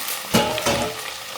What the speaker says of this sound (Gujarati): બધો ગવાર નાખી ગયો અને આયદું પણ તેની સાથે, મીઠો લીમડો પણ તેમાં